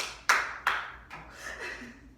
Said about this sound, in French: Applaudissez fait 3 fois.